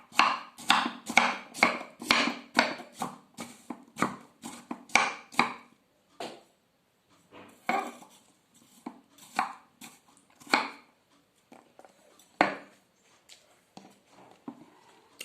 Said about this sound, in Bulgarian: Просто ножът минава отгоре и така ги режа на по-малки парчета